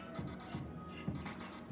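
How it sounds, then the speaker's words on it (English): A faint electronic workout timer beeping pattern sounds in two short bursts of rapid repeated tones, quiet and thin against a soft background. "You're gonna hear your buzzer shortly for a slight break."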